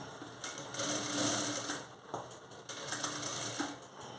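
Close sewing machine stitching thread piping onto a blouse, a fast rattling mechanical drone that swells and dips in short runs, with no talking.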